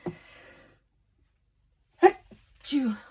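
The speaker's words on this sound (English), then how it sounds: "I'm going to sneeze." A single sharp sneeze bursts out after a moment of quiet, followed by a short vocal sound; a voice speaks briefly just before.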